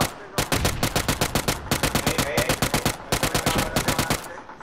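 Rapid automatic gunfire in the PUBG video game, a steady stream of loud, close shots in quick bursts with brief pauses, running almost without break.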